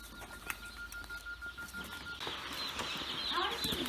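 Baby ducklings in a shipped poultry box peep and chirp in a cluster of high, thin calls that grow busier toward the end, close by, over a faint rustling background.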